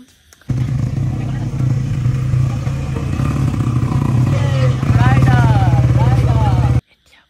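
A motorcycle engine runs steadily nearby with a low, throbbing drone that grows louder near the end, while people talk over it.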